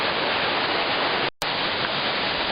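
Zhenets waterfall rushing in a dense, steady roar of falling water heard close up, continuous except for a brief cut partway through.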